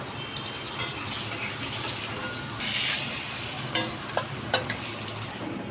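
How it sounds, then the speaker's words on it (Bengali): Pumpkin pieces frying in oil produce a steady sizzle, with a surge of hissing midway and a few scraping knocks toward the end. "এবার হচ্ছে কুমড়ো ভাজা"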